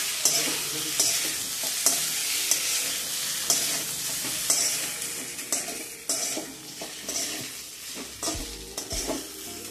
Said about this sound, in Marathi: आणि हे छान परतून घेऊया